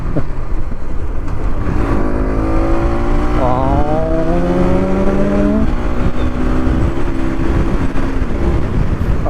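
A Bajaj NS200 motorcycle engine, just back from an ECU repair, revs hard and close, its pitch climbing in stepped rises through the gears, loud and steady for several seconds with a brief voice over it.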